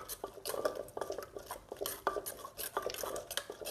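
A utensil stirs seasoning powder into food in a metal pot, giving repeated scraping clinks and knocks in an uneven rhythm, close and moderately loud.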